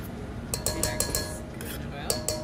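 Spatula scraping stuck coconut oil out of a container for gluten-free cookies, a run of close clinks and scrapes against the container with low kitchen background.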